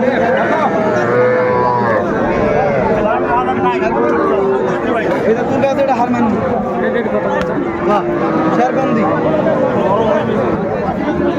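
Cattle and calves at a busy livestock market, with repeated moos and bellows rising over a steady murmur of crowd chatter and traders talking close by.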